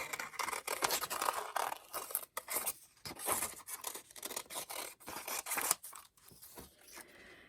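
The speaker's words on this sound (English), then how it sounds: "I'm just going to fussy cut him out really quick" Scissors fussy cutting a paper image: a steady stream of close, crisp snips and papery scratches with short pauses, quiet and continuous throughout.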